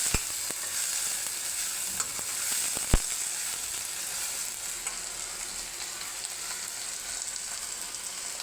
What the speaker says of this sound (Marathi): टमाटर बी जरा चांगलं भाजी द्यायचं.